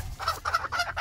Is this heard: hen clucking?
yes